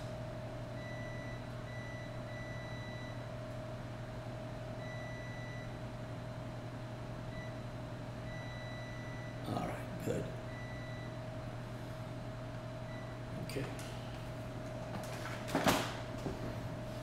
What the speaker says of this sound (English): I wanna do a continuity test here.